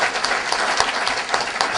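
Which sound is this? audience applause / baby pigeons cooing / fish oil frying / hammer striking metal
audience applause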